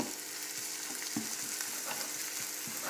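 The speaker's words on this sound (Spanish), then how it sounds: "Con cuidado de que no se queme el ajo para que no amargue." Garlic frying in oil in a pan, a steady soft sizzle with small crackles and pops scattered throughout, close and continuous with no talking.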